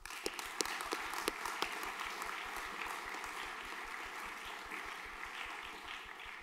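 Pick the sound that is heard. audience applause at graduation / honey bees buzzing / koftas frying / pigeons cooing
audience applause at graduation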